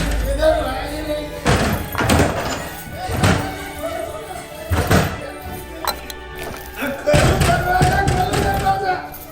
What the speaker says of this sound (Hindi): अरे दरवाजा किया बंद कर देली?